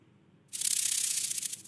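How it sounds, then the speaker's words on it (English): A snake lets out a single sudden hiss: a loud, airy, sustained rush that begins abruptly after a moment of near silence and holds steady. "Snake hisses."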